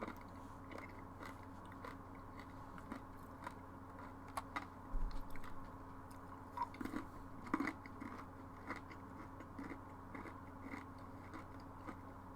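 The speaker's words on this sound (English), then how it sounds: "Sorry about the noise, they were really crunchy." Crunchy snacks being chewed close to the microphone during a PC fishing game session, with irregular bursts of crisp crunching and biting over a steady low background hum.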